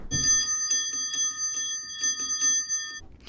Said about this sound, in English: When you ring the bells, they're loud and clear.